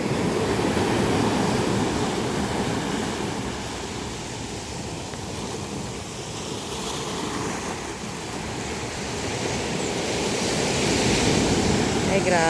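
Ocean waves crash against a rocky shore below a mountain in a continuous rushing wash of surf, with wind noise on top and swells that rise and fade.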